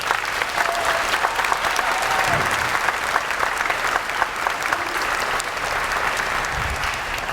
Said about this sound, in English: Please give the chorus one more round of applause